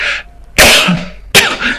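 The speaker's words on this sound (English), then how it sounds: "Excuse me, I'm going to cough." Two sharp, loud coughs close to the microphone, the second shorter than the first, with brief quiet between them.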